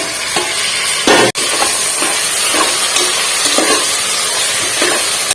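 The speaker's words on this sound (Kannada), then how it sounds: "ಟೊಮೆಟೊನ ಚೆನ್ನಾಗಿ ಸ್ವಲ್ಪ ಸಾಫ್ಟ್ ಆಗೋವರೆಗೂ ಫ್ರೈ ಮಾಡ್ಕೊಳ್ಳೋಣ" Tomatoes frying in a hot pan for masala rice, a steady loud sizzle with several soft stirring scrapes and one sharp clank partway through.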